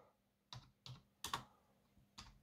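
Typing on a computer keyboard, a handful of separate key clicks spaced irregularly at close range in a quiet room.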